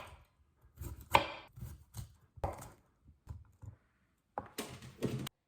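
A knife cuts broccoli and cauliflower into florets on a board, giving a few irregular clusters of crisp thunks and crunchy snaps separated by short pauses, close and fairly quiet, with no talking.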